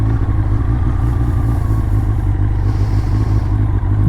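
A 1984 Honda CB700 SC Nighthawk S, fitted with a faulty clutch, runs with a loud, close, steady engine drone and a rough pulsing rumble throughout, with no talk.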